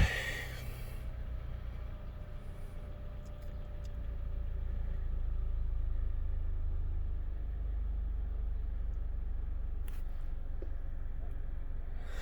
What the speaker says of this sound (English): So I can go ahead and turn the car on here, and the radio will start up.